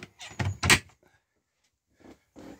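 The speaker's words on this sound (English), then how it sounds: "Bathroom door." A bathroom door inside a 2011 Rimor motorhome opens or closes with a short burst of close knocks and clatter, then near silence and a faint rattle afterward.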